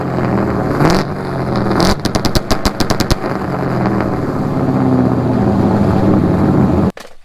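An LS-swapped Datsun drag car bangs through its two-step launch control, firing a rapid string of loud, sharp pops and crackles over a roaring engine held at high revs before cutting off abruptly.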